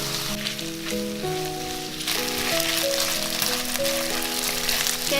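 Watermelon rind stir-frying with ginger and dried chili gives a steady, dense sizzle that holds throughout, with background music playing over it.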